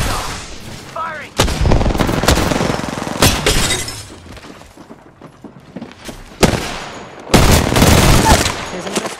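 Heavy gunfire in a squad-based shooter video game, loud bursts of shots and blasts separated by quieter stretches, with some shattering impacts.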